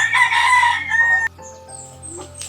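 Inside a chicken coop built by a grandfather, a rooster gives one loud, long crow that cuts off abruptly, followed by quieter scattered clucks and soft fowl noises nearby.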